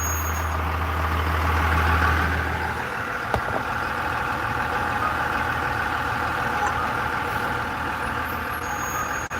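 Historic trolley bus on a Dallas street, a loud steady heavy-vehicle engine rumble close by, with a deep low drone in the first few seconds and a brief clunk partway through.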